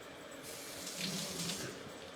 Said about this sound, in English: let me rinse off my hands here